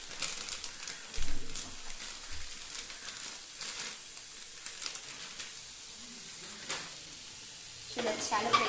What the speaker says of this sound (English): Putting the Amul paneer, it's 1 cup of paneer, and just going to shallow fry them.